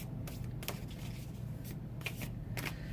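Tarot cards being shuffled in quick riffling bursts, crisp and close, repeating several times against a quiet room hum with no talking.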